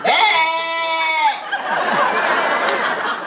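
A voice imitates a baby sheep with a loud, quavering bleat lasting over a second, close up, followed by laughter and chatter from a crowd.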